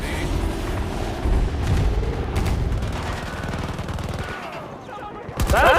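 Rapid automatic gunfire and explosions from the video game Battlefield 2042, loud and dense throughout with a sharp burst near the end.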